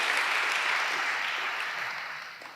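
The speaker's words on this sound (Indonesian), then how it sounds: "Tepuk tangan buat dia," A church congregation at a worship service breaks into sustained applause, a dense wash of many hands that holds steady and then slowly tapers off, with no voices standing out.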